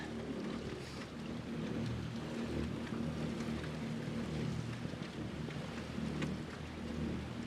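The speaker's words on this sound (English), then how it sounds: "That's a big gust." Strong wind roars steadily across the microphone while sailing on a broad reach, a low rumble underneath, buffeting continuously out on open water.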